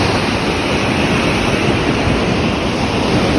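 Water from Weinia Falls in Meghalaya flows away down the river as an even, unbroken rush of broadband noise, close and loud, with no other sounds over it.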